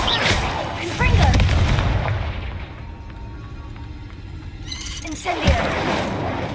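A Confringo blast spell in the Hogwarts Legacy video game goes off as a loud booming burst, followed by crackling and rumbling explosive impacts. A second thud lands near the end amid continuous dense game noise.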